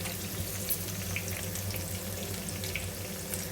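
Onions frying in a pan, a steady, even sizzle that crackles faintly throughout with no pauses or voices.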